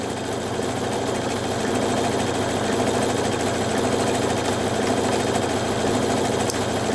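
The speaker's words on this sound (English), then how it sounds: "I'm gonna turn 90 degrees, and I'll start sewing again." Pfaff Performance 5.0 sewing machine stitching fabric after turning a corner, a steady close motor whir with rapid needle chatter running evenly throughout, no talk.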